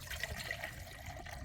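Water poured into a breakfast cup for a solar cooking meal, a steady low trickling gurgle lasting a moment and heard close up with no talk.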